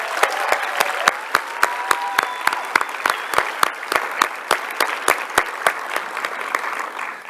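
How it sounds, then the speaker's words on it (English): Audience applause at a Hispanic heritage celebration at Space Center Houston, honoring a mariachi band: steady clapping from a crowd with sharp, loud individual claps standing out in a regular rhythm through the whole stretch. "Let's give another round of applause to the mariachi."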